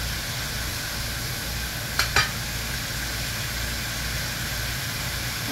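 Onions fry in a pan for okra curry with a steady, dense sizzle. Two faint clicks sound near the middle, and no one speaks.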